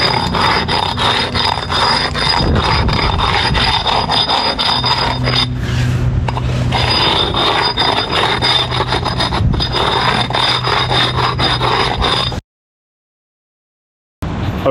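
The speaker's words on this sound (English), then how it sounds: "I went around with that rub stone, got every single joint, all the high spots" A rub stone grinds across concrete patio joints and high spots in a steady, loud abrasive scraping that rasps continuously, with a short pause midway and a silent gap near the end.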